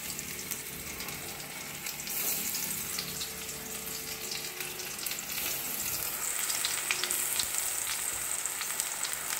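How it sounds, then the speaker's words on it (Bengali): Achar chops frying in hot oil in a pan, a continuous dense sizzle that grows slightly louder partway through, close and steady with no voices. "এটাও ভালো করে ভেজে দিই"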